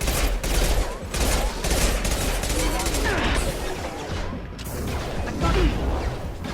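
Rapid gunfire in the video game Mass Effect 2, dense continuous bursts of shots and impacts filling the whole stretch, with game voices under the shooting.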